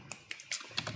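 Fast clicks from a computer keyboard as a few keys are struck in quick succession, close and clear, over a faint background hum.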